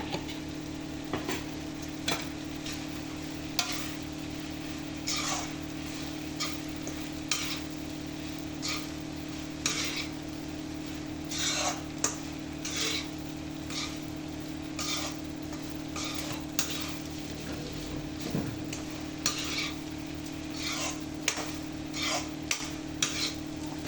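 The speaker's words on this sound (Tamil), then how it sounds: "முட்டை, அதை போட்டு கிண்டிக்கிறேன்." A spoon stirs egg into semiya cooking in a pan with repeated scraping and tapping strokes over a faint, steady sizzle and a constant low background hum.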